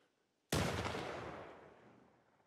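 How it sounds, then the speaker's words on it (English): A single loud gunshot in The Last of Us on PS5, an abrupt blast after brief quiet, followed by a long rumbling echo that fades over two seconds. "I want to know where he's shooting."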